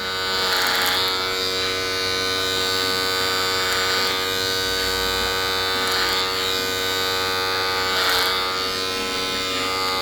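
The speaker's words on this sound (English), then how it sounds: "I'm just creating a shape here with this clipper over comb." An electric hair clipper cuts hair over a comb at a barber's, giving a steady, close, continuous buzz with no breaks and no talking.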